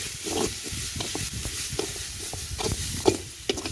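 Coriander powder, turmeric and chilli powder frying in a pan for a bitter gourd curry, giving a soft sizzle broken by repeated scraping stir strokes, close and without speech.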